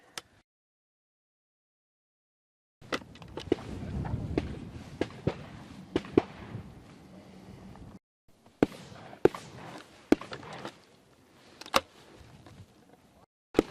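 Shotguns firing at Spanish partridges on a hunt in Spain, sharp separate reports spaced over several seconds, some near and loud, others farther off, against rustling movement and outdoor background.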